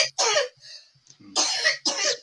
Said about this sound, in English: Man, I've been coughing